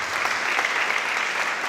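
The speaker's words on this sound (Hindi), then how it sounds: "इनके लिए ताली बजा दीजिए।" Audience applause at a church gathering, a dense continuous clapping from a crowd held at an even level throughout, with no talk over it.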